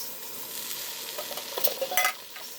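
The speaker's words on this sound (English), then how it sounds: "I'm going to stir that up" Stewed tomatoes stirred into a simmering gumbo, a steady soft sizzle with wet scraping and sloshing strokes of the spoon building toward the end, no voices.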